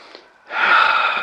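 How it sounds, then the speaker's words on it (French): Deep breath taken during a Pilates class focused on hip and thigh mobility, a quiet short intake followed by a louder, sustained breathy exhale, close and alone. "on va maintenir 5 respirations costales"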